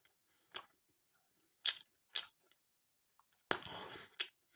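Bites of an Aldi garlic and herb pork pie, with several separate crunchy chewing bursts spaced across a quiet stretch and a longer, louder bite near the end, heard close up with no talking.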